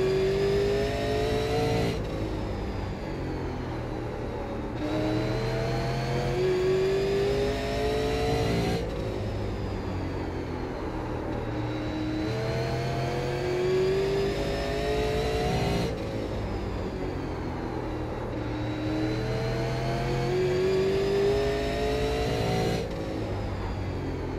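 Super Late Model race car engine in iRacing at Southern National, a loud continuous roar rising and falling through repeated upshifts and throttle lifts every few seconds, with no talk.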